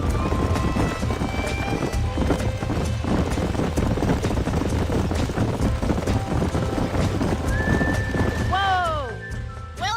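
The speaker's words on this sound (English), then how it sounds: "These are fine horses." Horses galloping in the Red Dead Redemption video game, a dense rapid clatter of hooves running continuously and loudly under game music, ending with a sharp high neigh near the close.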